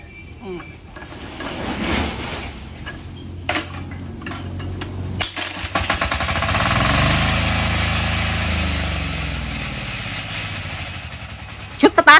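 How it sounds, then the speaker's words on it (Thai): A large diesel engine, started by hand crank, chugs and clatters up close. Its loudness swells in the middle, a voice is heard over it, and a few sharp knocks come right at the end. "ชุดสตาร์ทแบบมือหมุนนะคะสำหรับเครื่องยนต์ดีเซลใหญ่"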